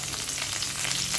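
Curry leaves hit hot oil for a tomato upma tempering, giving a short burst of bright, steady crackling sizzle up close with no voices.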